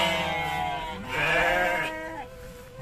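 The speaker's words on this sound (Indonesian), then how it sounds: "Dan ini mah kandang domba sahabat ya." Sheep bleating in a sheep pen in a village, several wavering bleats overlapping, close and fairly loud, the longest call rising in the middle.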